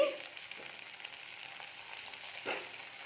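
Chopped tomatoes frying in hot oil for an Assamese pork curry, a soft continuous sizzle with a brief stirring scrape near the end, close and moderate in level, no one talking.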